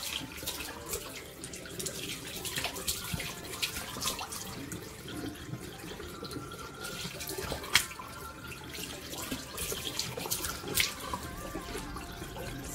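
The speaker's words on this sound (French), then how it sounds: "Donc je vais encore rincer avec de l'eau fraîche." Cool tap water runs steadily into a sink while someone splashes and rinses their face, with irregular splashes and drips over a continuous flow.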